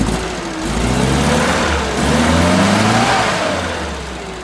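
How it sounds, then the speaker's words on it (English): An Innocenti car with twin carburetors idles roughly, running rich, with a steady close engine drone whose pitch wavers and swells slightly; no talk over it. "So I've got the car idling right now"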